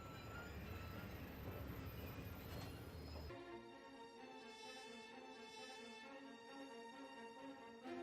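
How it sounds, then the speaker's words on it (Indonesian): A train travelling on rails in a werewolf film, first a rumbling rolling noise for about three seconds, then a sustained smoother tonal hum as the ride continues, steady and moderately faint. "Ia pun kemudian menaiki kereta api menuju Blackmore,"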